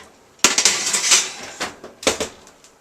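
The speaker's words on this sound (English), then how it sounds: "pop it in the oven." Frozen garlic bread goes into an oven with a clatter of a metal tray and rack, a burst of rattling clanks followed by a few lighter knocks, close and fairly loud.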